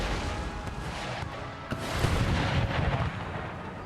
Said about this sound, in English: Cannons tearing into the militia there.